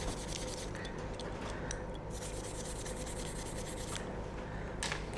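Cloth wiping and rubbing an electroplated metal part, formerly a rusty brake drum piece, with steady close rasping strokes and a few brighter scuffs, no voices.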